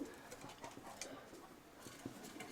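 Domestic pigeons coo softly in a loft, a few low throaty calls faint against a quiet room with small shuffling sounds.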